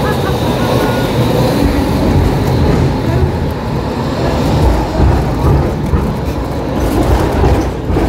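A tram rolls past close by on a city street, a loud continuous rumble and rattle of wheels on rails that swells and holds for several seconds over general traffic noise.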